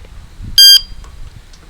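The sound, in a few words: e-bike brake lock alarm beeping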